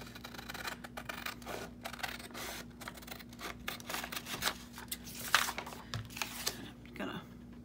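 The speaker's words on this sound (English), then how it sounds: "And we'll find my ginormous scissors." Large scissors snipping through paper while making journal cards at a craft table, a series of short crisp cuts and paper rustles, close and quiet.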